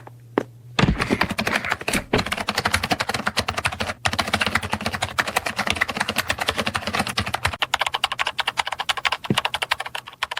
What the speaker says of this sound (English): That is over 10 seconds of him just typing.